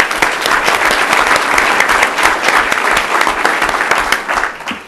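An audience at a city council meeting applauds, a dense, loud burst of clapping that holds steady for several seconds and then tapers off, with no voices on top.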